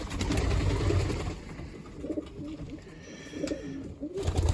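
Pigeons coo softly in a few low rounded phrases against a dense, busy background, with no voices present.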